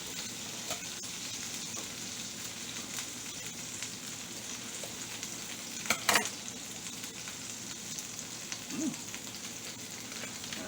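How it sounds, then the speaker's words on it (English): Butter melting in a hot pan before a thin steak is added, giving a soft, steady low sizzle with a brief louder crackle burst midway, faint and close with no talk. "Coat our pan with this butter. And let that melt while we find our steak"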